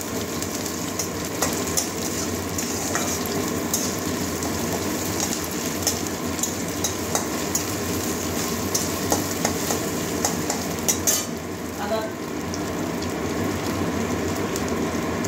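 Grated ginger fries in oil with already browned onion in a pan for a cabbage curry, giving a soft, steady sizzle with faint occasional scrapes, continuous and fairly quiet throughout.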